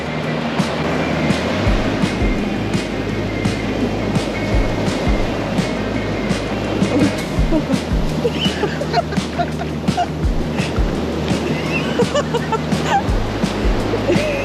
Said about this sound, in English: We're on the beach. We're in the water. We're in the ocean.